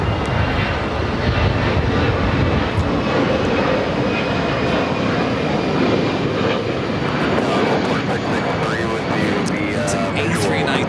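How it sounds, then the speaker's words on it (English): An American Airlines Airbus A319 jet roars steadily on its takeoff roll at LAX, a loud, broad engine rush that holds for the whole stretch, with faint voices mixed in. "It's an A319, originally delivered to the original U.S. Airways."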